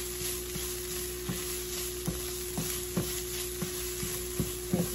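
Onion stir-frying in a pan for bacon fried rice: a steady, faint sizzle with a high background hiss, broken by several soft clacks of a utensil stirring.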